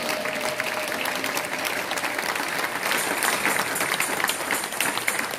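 A church congregation applauds and cheers at a worship service, a sustained wash of clapping with scattered voices that stays steady and full throughout.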